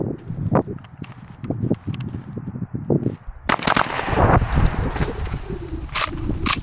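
A 12 gauge shotgun fitted with an FRT trigger fires a string of sharp, rapid blasts, several spaced reports first, then a denser burst of loud shots with ringing tails, close and dominant.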